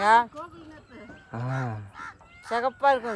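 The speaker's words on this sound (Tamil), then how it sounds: "மயில் கத்துற சவுண்டு கேட்குதுங்களா?" A peacock calls on a sesame farm in Semmantapatty, giving loud, nasal, honking cries in short bursts, with one longer call in the middle. Someone talks over and between the calls.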